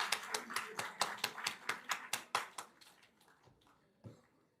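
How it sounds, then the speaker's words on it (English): Brief applause for hostel staff at a graduation ceremony: a burst of clapping and several hands tapping that fades out over a few seconds, quiet and somewhat distant. "Give a round of applause."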